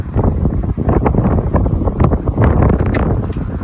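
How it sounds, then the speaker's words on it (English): Strong, cold wind in the UK countryside buffets the microphone in loud, continuous gusts, a heavy rumbling roar with no break. "very windy and very cold here in the UK"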